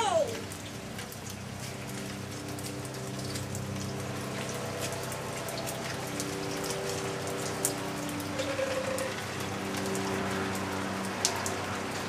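Rain patters steadily on a surface, a dense even hiss of drops, close and moderately loud, with a few sharper splashes and a low hum underneath throughout.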